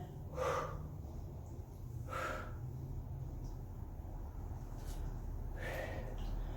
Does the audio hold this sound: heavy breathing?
yes